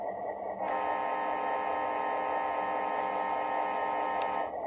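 Idle rumble from a Tsunami DCC sound decoder in a large-scale Hartland Mack locomotive, a steady, continuous diesel-like hum that starts up abruptly and runs evenly before cutting off, close and moderately loud with no talking.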